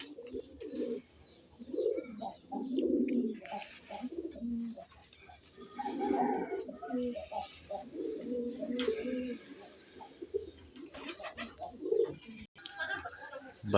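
Pigeons kept in an outdoor coop give repeated low, throaty coos in overlapping phrases, close by and fairly steady across the stretch, with brief rustles between calls.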